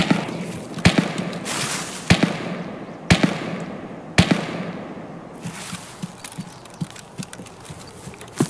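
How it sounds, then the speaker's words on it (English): Sniper rifle shots ring out in a video game set in woods, four sharp loud cracks spaced about a second apart, followed by fainter scattered pops and rustling. "Sounds like snipers though."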